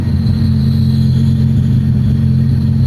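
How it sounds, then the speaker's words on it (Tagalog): Mitsubishi Lancer engine running after starting, a steady loud mid-pitched drone with slight revving throughout, close by and alone. "na-start natin yung kotse"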